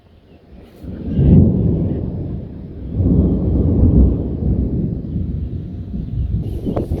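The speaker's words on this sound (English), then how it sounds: "gotta go to bed, there's a storm" Thunderstorm thunder rolls in low, heavy rumbles, swelling twice and then lingering as a sustained distant grumble, with faint rain or wind noise underneath.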